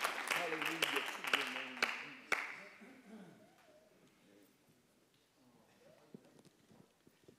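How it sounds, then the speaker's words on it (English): A church congregation claps their hands, a dense burst of applause that fades after a few seconds into quiet room noise and faint voices. "Clap your hands unto the Lord and you may be seated."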